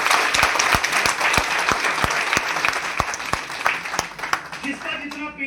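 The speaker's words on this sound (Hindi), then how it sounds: "दोनों हाथ उठाओ, दोनों का अपने लिए ताली बजाओ" A seminar audience claps for themselves with both hands raised. The applause is loud and continuous, with sharp individual claps standing out from the dense patter, and it fades slightly near the end.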